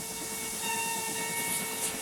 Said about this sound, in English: The train usually stops here.